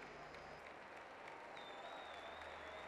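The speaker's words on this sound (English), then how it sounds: "To your applause, thank you." Stadium crowd at London 2012 Paralympic athletics applauds steadily in a broad, distant wash of clapping, with faint tonal sounds drifting over it.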